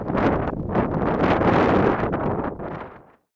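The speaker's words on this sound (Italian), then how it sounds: "Un vento assordante che difficilmente si riesce ad immaginare e che a fatica consente di restare in piedi." Strong Patagonian wind roars and buffets the microphone in loud, continuous gusts, then stops abruptly.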